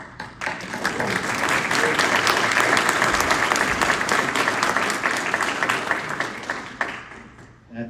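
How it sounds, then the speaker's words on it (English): Audience at a paramedic pinning ceremony at Tulsa Tech applauding the graduates, a dense sustained burst of many hands clapping that swells quickly, holds steady for several seconds, then tapers off in a large room. "if I could just give them a round of applause"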